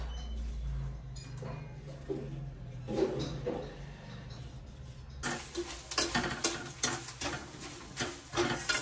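Chuda, flattened rice, frying in a pan: quiet clinks and scrapes at first, then a louder burst of crackling sizzle with rhythmic stirring strokes over the last few seconds.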